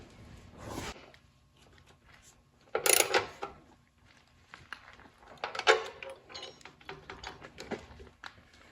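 Ratcheting clicks and metallic mechanism sounds from a bolt being tightened on a truck's spare tire winch, in short irregular bursts with quiet gaps, fairly close and moderately loud.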